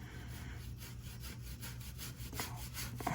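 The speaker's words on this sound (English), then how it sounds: "I'm just gonna wire brush the frame rail some just to get some of this gunk off of it" Wire brush scrubbing gunk off the frame rail of a 1977 Ford F150 4x4, a close, continuous gritty rasp in quick rhythmic strokes with a low steady hum underneath.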